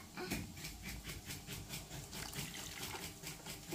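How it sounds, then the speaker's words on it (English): Water pours from a bucket into a homemade fish aquarium built from old toys, a faint, steady splashing rush that continues without a break. "we need more water from your bucket."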